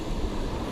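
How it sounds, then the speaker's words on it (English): Big ocean wave breaking against a rock off a tropical Colombian coast, a dense, rumbling surf wash with wind noise, close and steady, with no voices. "watch this big wave hit the rock"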